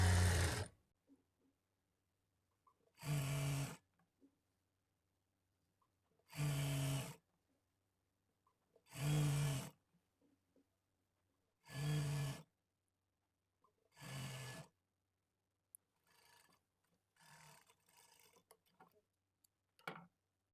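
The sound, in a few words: sewing machine stitching piping cloth on a blouse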